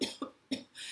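Three short, forced coughs come close to the microphone in a quick uneven rhythm, trailing into a breathy exhale.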